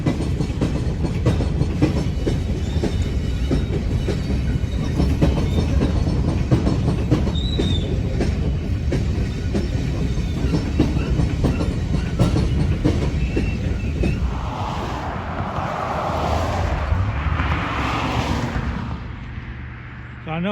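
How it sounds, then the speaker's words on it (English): A Norfolk Southern coal train rolls past on a line in southern Indiana, a loud, continuous rumble with rhythmic wheel clatter that fades toward the end as the train moves off. "This is that coal train just saw passing through"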